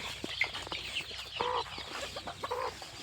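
Steady clucking and soft calls from a mother country hen with her roughly fifteen chicks on a native poultry farm, several short close calls repeating in an irregular rhythm.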